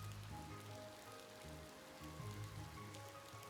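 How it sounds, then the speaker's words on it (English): Steady rain falls in the video game Ova Magica, a soft, even patter of drops that lasts the whole stretch, with no voices over it. "The sound of rain makes me want to curl up and sleep."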